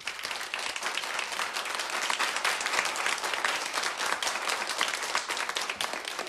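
Applause for a small boy dressed as a firefighter holding an extinguisher, a bright, dense crackle of many clapping hands, even and continuous from start to finish at moderate volume.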